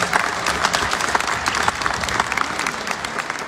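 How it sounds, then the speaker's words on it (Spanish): An audience at a community string orchestra concert in Santa María Tlaxcala claps steadily, a dense, continuous round of applause from a crowd. "Aplausos."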